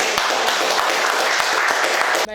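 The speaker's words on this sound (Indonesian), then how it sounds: "Kita beri tepuk tangan yang meriah." Audience applause at a podcast event about army recruitment, a dense continuous wash of many hands clapping, steady and loud throughout before cutting off abruptly at the end.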